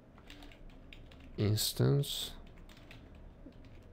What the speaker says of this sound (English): you can hear my fingers pressing the keyboard